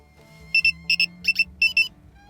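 A radar detector powered from a 12-volt car hub gives a quick sequence of sharp electronic beeps in paired bursts as it switches on, close and clear.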